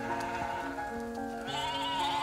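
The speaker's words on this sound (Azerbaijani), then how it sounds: "Kətdə ilk dəfə qoyun sürüsü" A flock of sheep passing through a mountain village in Kalbajar district, Azerbaijan, bleating close by in a dense, overlapping chorus of wavering calls that never stops.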